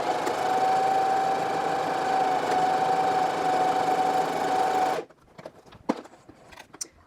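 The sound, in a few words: sewing machine stitching a buttonhole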